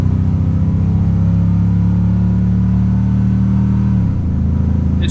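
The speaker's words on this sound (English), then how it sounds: "This is full throttle." A slammed big-block Vortec 7400 dually truck engine roars loudly and steadily at full throttle, then its pitch drops abruptly as the transmission shifts near the end.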